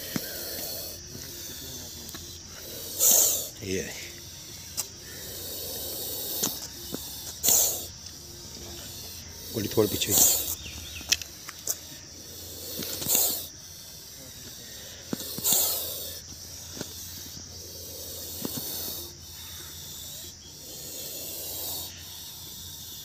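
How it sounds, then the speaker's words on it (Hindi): An agitated Indian spectacled cobra gives repeated sharp, breathy hisses in bursts a few seconds apart, loud and close, with someone speaking briefly between them. "इसकी फुफकार आप सुन सकते हैं।"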